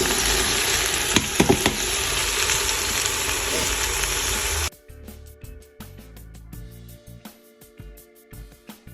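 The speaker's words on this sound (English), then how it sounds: "So I'm just searing everything off, and then I'll cover it." Beef sears in a hot pan with a loud, dense sizzle for several seconds, then drops off into quieter scattered crackles and stirring clicks.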